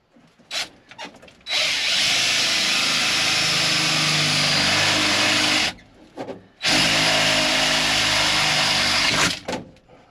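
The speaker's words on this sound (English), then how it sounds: "So we'll drill through this guy here." A power drill whines loudly and steadily, cutting through a truck panel for a boost gauge install in two long bursts separated by a short pause, with brief starts and stops at the edges.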